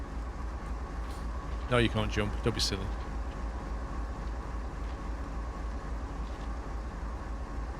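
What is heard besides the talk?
train running in Train Sim World 2, video game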